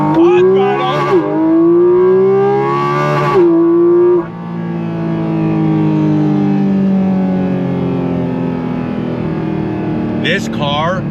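Porsche 718 Cayman GT4 RS engine accelerating hard on throttle, a loud rising howl through gear changes, with brief pauses before each new climb.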